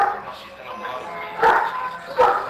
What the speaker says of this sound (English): I can't hear shit with that big ass dog in the background